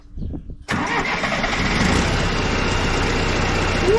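A Case 188D tractor diesel engine cranks briefly, then catches and settles into a loud, steady rumbling idle close by.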